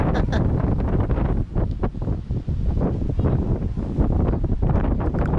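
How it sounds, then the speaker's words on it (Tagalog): Strong wind buffets the microphone in a constant loud, rumbling roar with brief gusty dips. "mahangin sa labas"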